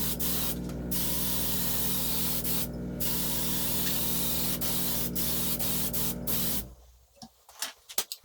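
Clear lacquer sprayed onto a maple guitar neck, a steady close hiss broken by short pauses, then stopping with a few faint clicks and rustles.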